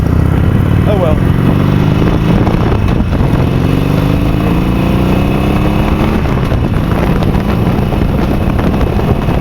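A 2013 Harley-Davidson Sportster 72 XL 1200V with a custom air cleaner runs on the road, its V-twin droning loud and close, revving through gear changes beneath strong wind noise.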